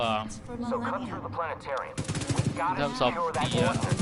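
Rapid SMG gunfire in The Division 2 on PS4, with repeated bursts of shots and explosive game effects layered over dense in-game sound and voice-like chatter throughout.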